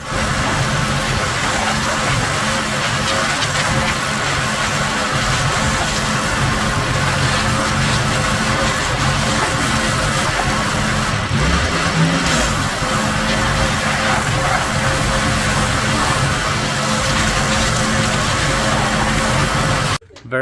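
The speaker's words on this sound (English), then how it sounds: "About to hit this thing with some power washing action." A pressure washer blasts the stripped chassis of a Chevy squarebody C10 truck, a loud, continuous hissing spray over an engine drone for about twenty seconds before cutting off abruptly.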